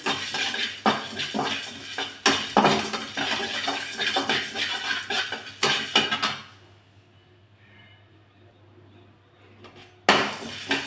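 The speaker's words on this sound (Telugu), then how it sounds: "మిరియాలు జీలకర్ర ధనియాలు అవన్నీ దూరగా వేయించుకోవాలండి" Black pepper, cumin and coriander seeds dry roasting in a pan, a dense rattle of seeds and metal scraping and clinking for about six seconds, then near silence until a final clatter.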